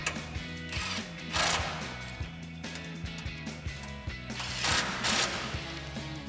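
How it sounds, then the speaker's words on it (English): A ratchet with a 13 mm socket tightens the mounting bolts on a Barricade HD stubby front bumper for a 2021-2023 Ford F-150. It gives close, rapid clicking in steady bursts, with a few louder metallic rattles and no talk. "then we'll take a 13 millimeter socket to tighten these down"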